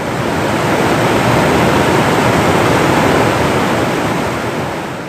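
Waterfalls flow through a valley at the foot of the Hindu Kush mountains near Garam Chashma in Chitral, giving a loud, steady rushing roar of water without pause or voices.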